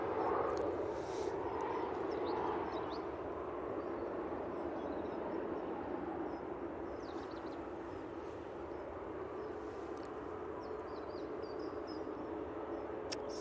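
An Ethiopian Airlines Airbus A350 arriving at Manchester Airport, a broad steady jet roar heard from a distance outdoors, with faint bird chirps on top.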